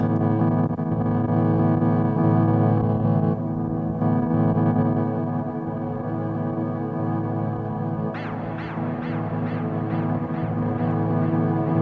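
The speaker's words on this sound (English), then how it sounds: "Let's hear some nice reverb with that." A sustained droning tone from a tape loop repeats steadily, washed in heavy reverb, and a series of swelling, echoing pulses rises near the end.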